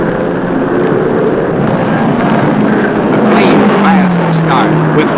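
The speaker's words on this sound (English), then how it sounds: "Here they come into the last corner and heading for the green flag and lap number 1." 1953 NASCAR Grand National stock cars at the Southern 500 roar into the first turn: a loud, steady engine drone with a pitch sweep as cars pass, under an announcer's talk.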